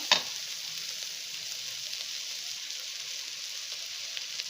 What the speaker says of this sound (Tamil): ஸோ அதையும் சேர்த்து நல்லா இந்த மாதிரி பச்சை ஸ்மெல் போக வதக்கிக்கணும்.